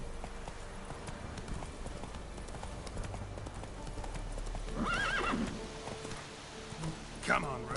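Roach the horse in The Witcher 3 gallops with a steady rumble of hooves, a whinny ringing out midway and another near the end, while someone speaks over it.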